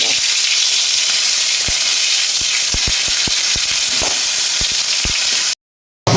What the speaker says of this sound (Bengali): টমেটো একটু ভেজে নেবো।